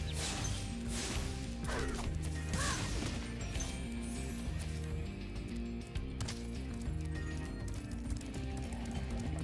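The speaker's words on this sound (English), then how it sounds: "they hit you with the bird" Spyro video game impact as the dragon gets hit by a thrown bird, a sharp smash over busy looping game music and effects.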